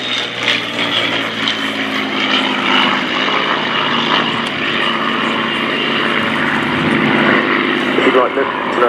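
A Supermarine Spitfire from the Battle of Britain Memorial Flight roars past at an air show during RIAT 2018, its propeller engine a loud sustained drone that swells and holds, with a commentator talking over it.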